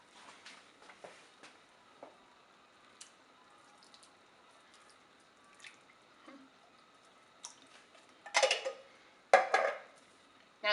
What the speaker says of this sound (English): I'm gonna go ahead and toss these in the pot.